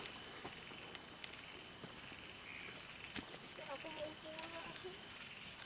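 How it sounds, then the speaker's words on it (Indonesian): Steady rain patters outdoors near Cibuntu, a dense hiss of drops striking surfaces with scattered closer taps throughout, moderately faint and continuous, with a few soft background sounds mixed in. "Malah ini hujan lagi."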